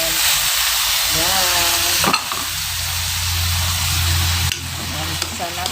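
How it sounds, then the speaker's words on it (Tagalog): Marinated chicken sautéing in a hot pan, a loud continuous sizzle with occasional stirring scrapes, while a person talks briefly over it. "Saka natin yung ilalagay ang ating chicken. Igisa na natin dito"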